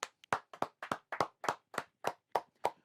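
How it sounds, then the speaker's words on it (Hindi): Claps for prize winner Ujjwal Raj at a YouTube mastery course prize ceremony, about ten sharp, close hand claps in a steady, slightly uneven rhythm, with silence between each. "उज्जवल राज के लिए तालियां हो जाएं।"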